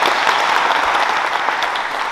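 An audience at a Social Workers' Day meeting in Olsztyn applauds, with steady, dense clapping from a crowd filling the room, loud and sustained without pause.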